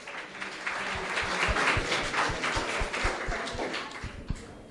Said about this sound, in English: A big applause to Hamilton.